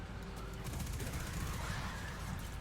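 Rapid gunfire from a player's weapon in Destiny 2 rattles continuously as a dense, steady burst of shots, loud and filling the whole stretch with no talk over it.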